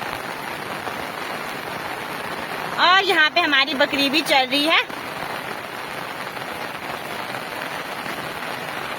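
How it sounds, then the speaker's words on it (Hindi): Heavy rain falls steadily in the mountains, a dense, loud hiss throughout, while a goat bleats repeatedly in the middle and someone talks briefly. "अभी मौसम ऐसा हो रखा है, बिल्कुल बारिश लग रही है भयंकर वाली।"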